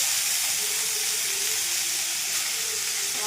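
Red amaranth greens sizzling in hot oil with cumin seeds, a steady, loud, dense hiss with no break and no voices.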